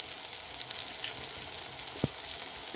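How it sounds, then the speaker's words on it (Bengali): Ginger-garlic paste frying in oil with turmeric and spices, a soft continuous sizzle with faint stirring scrapes and one sharp utensil knock near the end, fairly quiet and steady. "ভালো করে নেড়ে চেড়ে একটু হালকা করে একটু ভেজে নেব"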